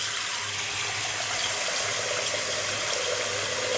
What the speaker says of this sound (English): I need to fill up my sink here, so pardon the noise.